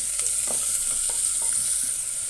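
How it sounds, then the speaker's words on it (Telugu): Onions frying with green chilies and curry leaves in a pan for a jackfruit seed, potato and tomato curry, a steady bright sizzle with a few soft stirring scrapes, close and continuous with no talking. "ఇప్పుడు ఉల్లిపాయలను శుభ్రంగా వేపుకుందామండి దోరగా బాగా వేగాలి"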